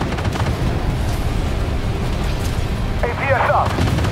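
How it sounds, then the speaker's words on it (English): Gunfire in the tank combat game Armored Warfare rumbles as a string of heavy, booming shots and blasts, loud and continuous across the stretch, with a voice speaking briefly near the end. "Here, gunfire."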